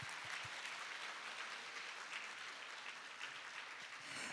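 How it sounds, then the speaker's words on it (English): Sustained, steady applause from a conference audience after a Korean traditional dance performance combined with digital media, a dense wash of clapping throughout. "ladies and gentlemen, please give another round of applause"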